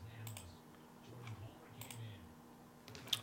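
Computer mouse clicks during a name randomizer, several light, quick ticks spaced irregularly against a quiet room with a low hum, no talk.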